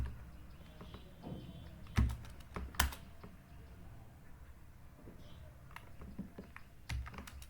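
A password being typed on a computer keyboard, with a soft, irregular patter of nearby key taps and a few heavier strikes, set against a low room hum.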